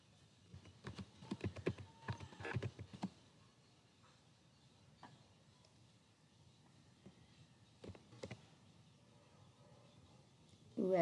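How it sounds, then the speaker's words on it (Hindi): Notes being written during a biology lecture on cell division: faint scattered taps and scratches, clustered early and again later, with a quiet background and no clear talk. "यहाँ हम लिख दे रहे हैं"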